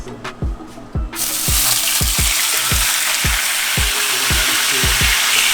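Marinated food sizzles and fries steadily in a cast iron pan, a loud continuous hiss with repeated low knocks and scrapes of stirring throughout.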